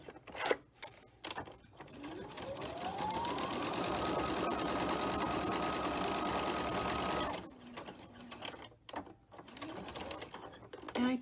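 A sewing machine runs steadily for several seconds, back stitching the corner of a rosemary and balsam fir herb sachet, its rapid even whir starting and stopping between short handling clicks.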